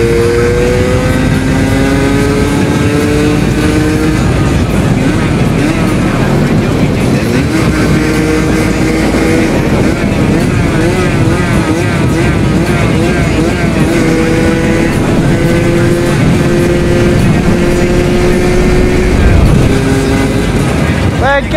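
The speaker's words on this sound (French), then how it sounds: "réparée, elle marche mieux la moto" A repaired motorcycle engine runs steadily and loudly throughout a ride, its harmonic drone shifting pitch as it accelerates and eases off, with a rider talking over it.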